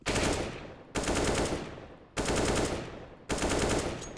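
Automatic gunfire in a first-person shooter game with an aimbot cheat and infinite ammo, four loud, long bursts, each breaking off abruptly before the next begins.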